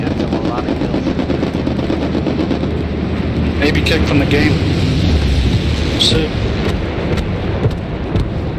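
Bombing-run explosions and gunfire in the WWII shooter Hell Let Loose, a dense, continuous roar of blasts and rattling shots filling the whole stretch with sharper bursts midway, while voices talk over it.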